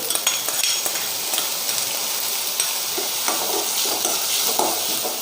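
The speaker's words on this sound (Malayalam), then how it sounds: "ഒരു സവാള ചെറുതായി അരിഞ്ഞത് ചേർത്ത് കൊടുക്കുന്നുണ്ട് കേട്ടോ അതുപോലെ തന്നെ ഇതിലേക്ക് നമ്മൾ ഒരു പച്ചമുളകും ഒരു രണ്ട് കറിവേപ്പിലയും ചേർത്ത് കൊടുക്കുന്നുണ്ട്" Chopped onion, green chili and curry leaves fry in a pan for bread upma, giving a steady bright sizzle with occasional stirring scrapes, close and continuous without speech.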